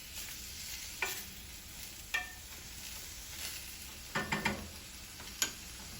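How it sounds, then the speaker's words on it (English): Ground meat and onion sauteing in a pan for beef vegetable soup, a soft steady sizzle broken by occasional utensil clicks and a quick cluster of scraping stirs, close but fairly quiet with no talking. "our meat and onion have been sauteing nicely"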